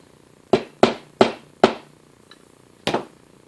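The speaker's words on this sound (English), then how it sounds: "Should be able to drive these rivets out of here." Hammer blows drive rivets out of a discarded carpet cleaner: four sharp, loud metallic strikes in quick, slightly uneven succession, a short pause, then a fifth hit, all close and with no talk.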